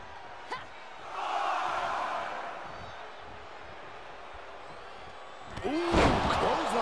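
In the PS4 wrestling game WWE 2K24, a wrestler takes a clothesline slam as an arena crowd roars, and the crowd noise swells around a thudding impact near the end.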